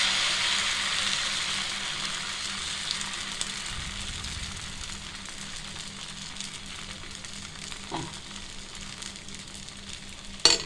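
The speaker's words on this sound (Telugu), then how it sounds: "ఇప్పుడు దోశ పెంక కూడా కాయింది. ఇప్పుడు దీంట్లో మనం దోశ వేసుకుందాం" Ash gourd (white pumpkin) dosa batter sizzles on a hot dosa pan, a steady close frying hiss that holds throughout with a couple of faint clinks and no talking.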